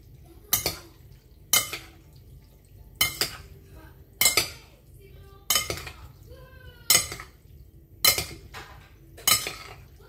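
A utensil scrapes and clinks against a bowl while a cold summer salad gets mixed, giving eight sharp, evenly spaced strokes with brief ringing tails in an otherwise quiet room.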